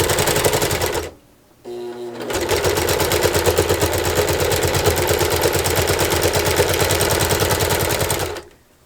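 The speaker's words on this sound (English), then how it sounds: "I'm going to pin it just to be sure I don't lose it, and continue sewing." A sewing machine stitches binding onto a quilt in fast, steady bursts of rapid mechanical clatter, stopping briefly for a short pause before running continuously and close up, then cutting off at the end.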